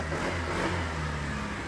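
A motorcycle engine starts with a push button after a keyless ignition repair and then runs at a steady, loud, close idle with some revving, with no voices.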